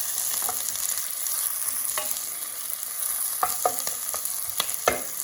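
Ingredients for a Keralan coconut curry sizzle and fry steadily in a pan, with sharp spoon stirs and scrapes breaking through the continuous hiss; close and fairly loud, no voices.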